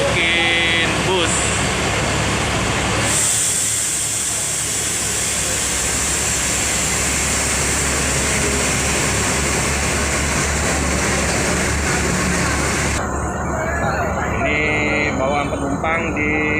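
Mercedes-Benz engine of a Scania premium tronton bus, a steady low drone that runs the whole time at close range under the clatter of passengers boarding and under talk.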